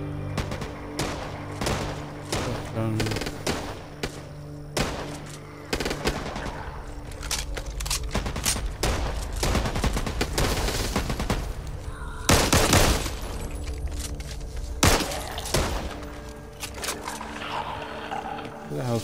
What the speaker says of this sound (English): Who the hell's shooting me?